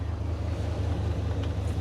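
A Hummer H3 engine runs evenly with a steady, low, continuous rumble and faint airy noise on top, unbroken and without talk.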